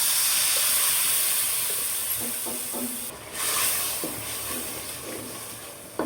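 Greens cooking with dried fish and spices hiss and steam loudly in the pan after water goes in, a broad rushing sizzle that eases off midway, surges briefly, then settles, with a few light stirring scrapes.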